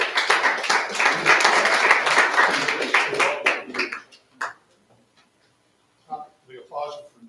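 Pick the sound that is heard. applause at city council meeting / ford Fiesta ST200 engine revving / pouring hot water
applause at city council meeting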